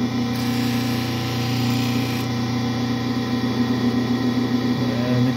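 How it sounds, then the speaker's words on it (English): An opal is ground on a 1200 grit lapidary wheel, making a steady, fairly loud motor hum with a constant low drone and a faint gritty hiss of stone against the wheel throughout. "I'm going to start out on my 1200 grit wheel here."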